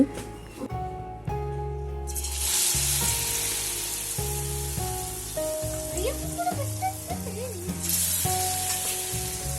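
Loud, continuous sizzling of meat chops frying in hot oil in a wok, with a low hum and faint musical tones in the background.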